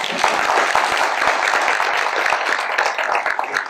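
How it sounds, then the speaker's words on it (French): An audience applauds at a mayor's New Year's greeting ceremony in Caro, with steady dense clapping that holds at an even level for a few seconds. "On peut l'applaudir"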